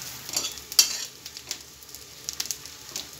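Dry coconut being dry-roasted in a pan until reddish, with soft scraping and stirring sounds and light sizzling crackle in short bursts, close by and fairly quiet.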